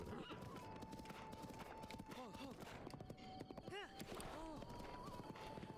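A video game horse neighs several times in short, rising whinnies amid a steady clatter of hooves and busy game ambience, with a faint voice in the mix.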